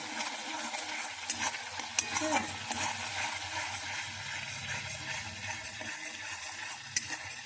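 Spices frying in oil in a pan for an egg and potato curry, a steady close sizzle with occasional scraping stir strokes and light clinks, no voices.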